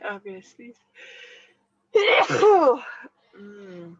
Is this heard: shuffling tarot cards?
no